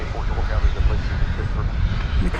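A Boeing 747-8 sits at Dallas/Fort Worth airport at night as ground crew detach the tug, its engines giving a loud, continuous broadband roar with a low rumble, and a voice talks over it.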